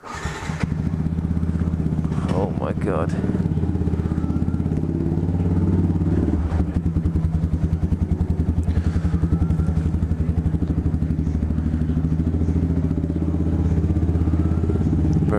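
Loud motorcycle engine running inside a storage unit, a close, continuous rumbling idle with rapid pulsing firing and some revving, plus a brief exclamation from a person early on.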